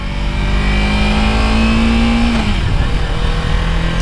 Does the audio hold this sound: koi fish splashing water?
no